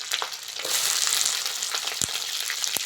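Chopped onion, green chili and ginger-garlic paste fry in a pan, giving a loud, close, crackling sizzle that swells after a moment, broken by a few sharp spatula taps. Nobody speaks.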